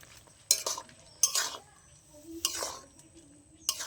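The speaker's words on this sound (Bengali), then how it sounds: "এটা অল্প অল্প করে দেবো আর মিশাতে থাকবো, নাহলে কিন্তু সুজিটা দলা পাকিয়ে যাবে।" Semolina being stirred into a mixture a little at a time, with a few separate bursts of scraping and stirring, close and moderately quiet, set apart by short pauses.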